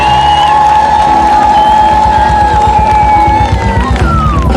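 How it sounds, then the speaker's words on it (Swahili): A church congregation clapping and cheering for Jesus, a steady loud roar of applause and voices, with a sustained tone running underneath. "Piga makofi kwa Yesu."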